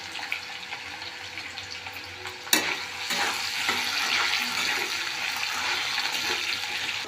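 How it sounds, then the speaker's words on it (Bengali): Potatoes frying in oil in a pan while being stirred, with a steady broadband sizzle and a sharp scrape or clatter of the spoon partway through, close and continuous with no talking. "আলুগুলো ভালো করে ভেজে নেব, একটু নেড়ে নিই"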